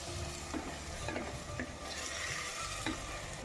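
Gongura chicken curry is stirred in a pan, with a spoon scraping the bottom in a few soft, evenly spaced strokes over a steady, low sizzle.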